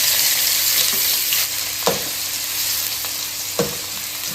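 Sliced onion sizzling in hot oil in a pan, a steady hiss with a couple of soft stirring clicks, close and alone with no talk.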